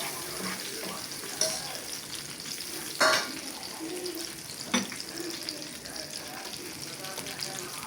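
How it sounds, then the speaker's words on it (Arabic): Garlic tempering for molokhia sizzles quietly in hot fat as a continuous frying hiss, with a few sharp clinks and stirring knocks standing out against it. "عارفين انتوا طشه الملوخيه يا جماعه؟"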